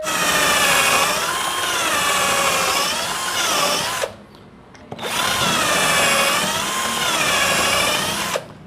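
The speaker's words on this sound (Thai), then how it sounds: "ล็อกแล้วนะครับเราก็เจาะเลยนะครับ" A pneumatic pocket hole jig drills angled holes into wood, two long loud whining bursts of about four seconds each separated by a short pause, with a close, steady motor tone.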